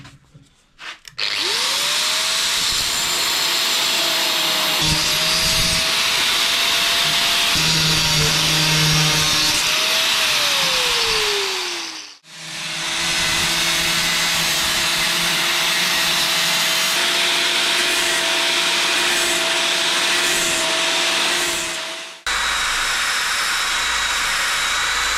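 A power tool whines steadily while cutting down a part for a Norton bobber motorcycle project, running in two long sustained bursts with a brief pause between, loud and close with no talking.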